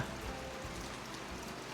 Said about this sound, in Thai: แดดอยู่ดีๆพี่น้องฝนเข้ามา